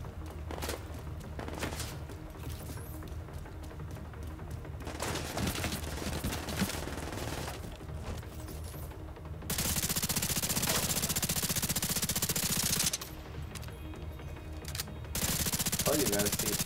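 Weapon fire in The Division 2 video game rattles in long automatic bursts with short breaks, loud and close, mixed with game effects and someone talking at times over the shooting.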